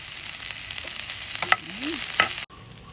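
Shrimp paste (bagoong) sautéing in a pan gives a steady, close sizzle with scraping stir strokes, a sharp knock near the end, then quieter frying.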